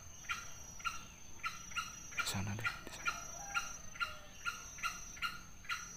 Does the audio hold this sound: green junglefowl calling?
yes